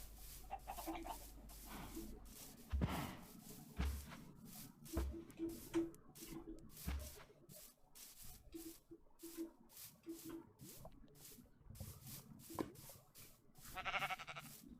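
Sheep bleat in the Minecraft video game, a series of short bleats and other animal calls scattered over a quiet game soundscape, some overlapping, fairly faint and steady throughout.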